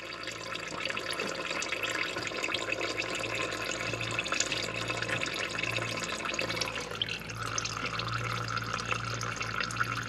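Transmission fluid draining from a Lexus LS430 six-speed automatic, a steady close trickle and splatter of liquid into a pan with a low hum underneath, continuous throughout.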